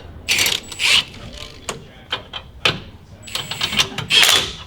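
A ratchet clicks in short bursts while tightening a lift kit bracket on a 2019 Toyota Tacoma, close and loud, with metallic clinks and pauses between strokes.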